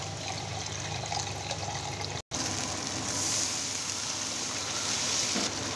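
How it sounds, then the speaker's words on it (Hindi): Water poured into frying spice masala in a pan for potato curry, a continuous close splashing and hissing pour that briefly cuts out, then resumes with bubbling, no voices. "थोड़ा पानी देके उसके अंदर डालूँगा।"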